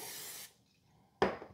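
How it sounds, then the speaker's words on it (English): Two short hissing bursts of cooking oil spray onto a grill rack, close up, separated by a brief pause. "I definitely got to spray both sides of this so nothing will stick"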